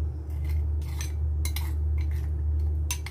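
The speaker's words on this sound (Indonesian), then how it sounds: "Pertama-tama kita masukkan ragi instan dan gulanya ke dalam air situ ya. Terus kita aduk." Spoon stirring instant yeast and sugar into water in a bowl, giving repeated light clinks and scrapes in an irregular rhythm over a low steady hum.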